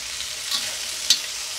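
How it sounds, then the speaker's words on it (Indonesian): Chicken frying in a pan with chopped garlic and shallots added gives a constant bright sizzle, with two sharper stirring scrapes standing out briefly, and no voices. "Setelah kita goreng dalam beberapa menit, masukkan cincangan bawang putih dan bawang merah."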